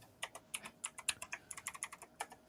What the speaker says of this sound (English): someone's rapidly typing hard. All right. That's Shannon with her mechanical keyboard